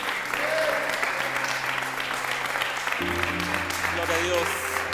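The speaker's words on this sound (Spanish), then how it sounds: "Si ese aplauso es para el Señor," A congregation at a church service claps steadily in sustained applause, moderately loud and continuous, with a low musical drone underneath.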